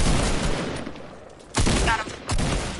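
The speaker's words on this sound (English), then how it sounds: "I know somebody is using some fireworks, and that's not okay." Fireworks going off in the video game Fortnite, heard as a sustained crackling barrage that fades, then two loud bursts of rapid popping in close succession.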